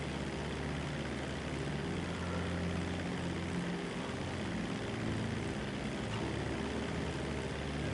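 Propeller plane flying in GTA Online, a steady, continuous engine drone with no breaks, fairly faint and even throughout.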